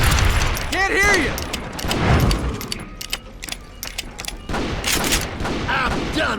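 Gunfire in the Western shooter Call of Juarez Gunslinger, bursts of shots with ricochet whines and loud impacts, mixed with game voices shouting over the fight.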